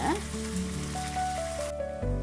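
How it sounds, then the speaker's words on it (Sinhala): Curry leaves, sliced onion and green chillies sizzle and fry steadily in hot oil in a pan for a fish curry, a continuous close crackle with no talking. "මේ ටික හොඳින් බැදීගෙන එද්දී"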